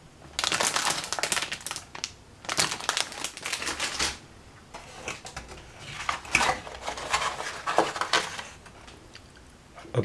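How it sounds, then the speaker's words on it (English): A plastic bag holding model kit parts for a figure crinkles and rustles in bursts as it is handled close by, with short pauses between the loud crumpling sections. "We have one plastic bag containing all the parts."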